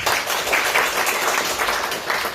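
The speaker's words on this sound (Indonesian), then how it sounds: "berikan tepuk tangan" Congregation applause during a church sermon, a thick, continuous crowd clapping that holds at an even level for the whole stretch, with no speech over it.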